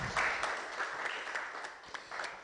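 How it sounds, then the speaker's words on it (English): Applause from an audience at a national conference on technology and innovation in forestry, a steady broadband clatter of many hands lasting throughout, fairly near and even in level with a few sharper claps. "Let's give John a round of applause"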